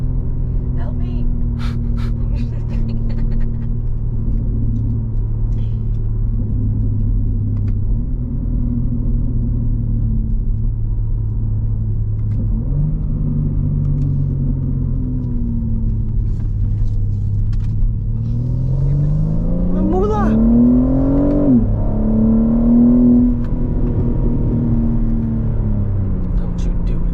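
A new BMW M3's exhaust during an in-car drive, a deep steady droning rumble that shifts pitch with gear changes and climbs into a rising rev near the end, with occasional voices over it.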